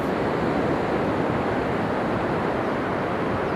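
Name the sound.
rolling ocean waves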